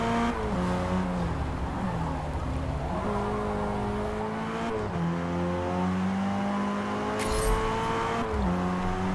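A race car engine in the Assetto Corsa EVO racing game revs loudly and steadily, its pitch climbing and dropping through gear changes, with a brief tire squeal near the end and no talking.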